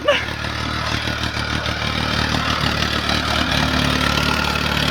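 A tractor engine idles steadily up close, a loud, continuous chugging rumble with no break.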